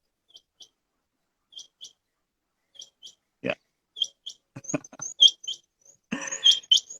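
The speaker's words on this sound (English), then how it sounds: "this is the rain quail" A rain quail sings in grassland: short, shrill, paired high calls that repeat at intervals and grow denser toward the end. Soft thuds and rustles sit underneath.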